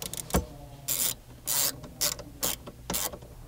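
A 10 mm socket wrench reinstalling the dash mount bolts in a 2022-or-newer Toyota Tundra, ratcheting in several short bursts with faint clicks and pauses between them, close up and with no talking.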